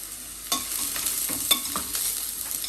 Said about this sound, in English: So we fried the yam for a minute